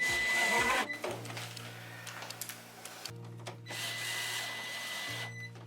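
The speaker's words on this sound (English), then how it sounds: "Next step, put in the bottom screw or bottom hinge." A powered driver whirs in short bursts, driving a screw into the bottom door hinge of a wine cooler, with a steady motor hum broken by brief pauses and clicks, close and fairly loud.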